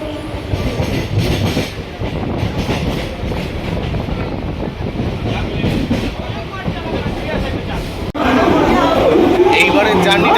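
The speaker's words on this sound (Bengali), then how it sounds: "এখন লোকাল ট্রেনে করে যাব হাওড়া অবধি" A crowded local train bound for Howrah rumbles and clatters steadily while passengers chatter all around; the rolling noise surges louder near the end as the wagon rattles on.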